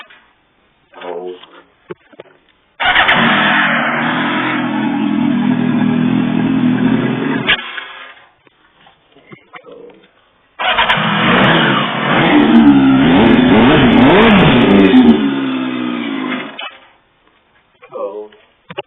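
A Yamaha YZF1000 motorcycle fitted with a Yoshimura exhaust, started cold and revved, gives two sustained loud bursts of engine roar, the second rising and falling with throttle, separated by quieter gaps with brief sounds.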